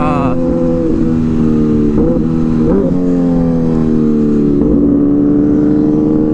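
A hyper naked motorcycle revs and accelerates hard, its loud, close engine whine climbing in pitch across several gear shifts, with brief dips between them. Wind noise rushes underneath throughout.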